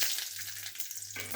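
Mustard seeds and chana dal tempering in hot oil, a brief steady crackling sizzle with a fainter patch partway through, heard alone.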